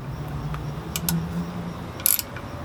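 A hand-turned NPT tap threads a freshly drilled hole in a car's oil pan for a turbo setup, giving a few soft metallic clicks and ratcheting ticks with one sharper scrape near the end, close by and alone.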